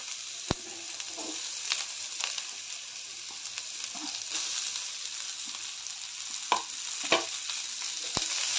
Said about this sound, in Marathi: आता आपण भाजून घेतलेली गवारी घालूया